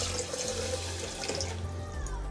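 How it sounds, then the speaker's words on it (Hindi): A glass of water is poured into sugar for a falsa sharbat: a short, close splashing stream of running liquid that continues steadily, with no talk. "1 गिलास पानी शामिल करेंगे।"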